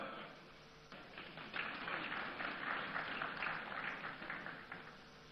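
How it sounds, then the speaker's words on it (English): Moderate audience applause at a business CEO summit awards event, a steady wash of clapping that swells after a second and continues fairly evenly, somewhat distant and muffled. "A round of applause as they come."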